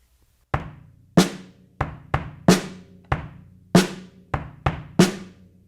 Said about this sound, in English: I'm going to play the bass drum and the snare together with that extra beat on beat 3.